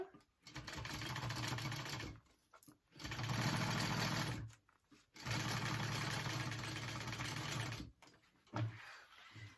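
A sewing machine top-stitches a handbag in four close, fairly quiet bursts of rapid mechanical whirring separated by short pauses, with no voices.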